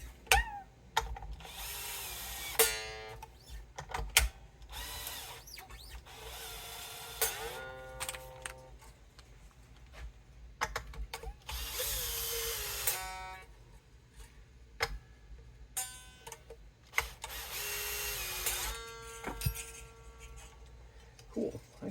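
A Bosch power tool runs in repeated loud bursts while work is done on a 1970 Gibson Les Paul Deluxe, with a headstock repair and fret levelling. The bursts are separated by short pauses and quieter handling noise.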